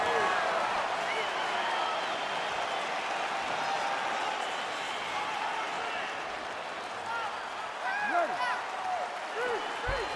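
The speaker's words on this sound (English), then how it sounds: "crowd getting excited as this fight gets underway" Arena crowd at the opening of a UFC fight, Georges St-Pierre vs Carlos Condit, a steady loud roar of cheering and scattered applause with a few whistles, continuous throughout.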